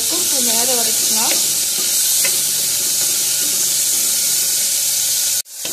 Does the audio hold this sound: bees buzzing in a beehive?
no